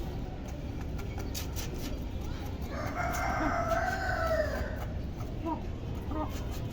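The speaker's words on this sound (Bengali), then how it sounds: "আসিল মুরগি দুইটা এখানেই গোসল করতেছে" Two Aseel hens bathing give one drawn-out, clucking call partway through, set against a steady farmyard background hiss.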